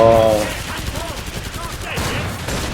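Shotgun blasts ring out in the video game Killing Floor 2, a loud opening shot followed by a quick string of repeated firing over roughly three seconds.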